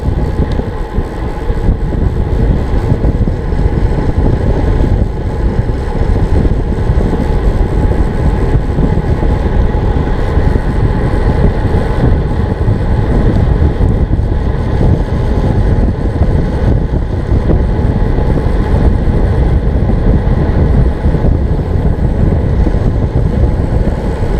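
A train rumbles past steadily and loudly for the whole stretch, a continuous low roar of rolling wheels and carriages with no voices over it, heard near a city loop route popular with cyclists.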